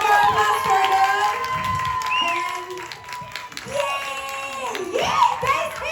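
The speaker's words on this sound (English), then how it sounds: "One more applause for them." A closing event audience claps and cheers for honored team members, the applause rising and falling beneath a loud voice talking over it.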